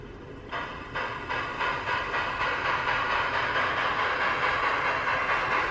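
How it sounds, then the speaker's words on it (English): A small electric Sn3 model train whirs steadily with a rhythmic clicking on the track, starting up and running continuously nearby. "while the train is moving"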